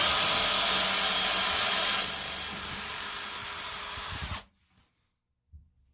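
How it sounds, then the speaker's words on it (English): A Ryobi power drill with a 1/8-inch bit whirs steadily at high speed for about four seconds, then cuts off abruptly into silence. "here is the Ryobi 1/8 drill bit with pressure"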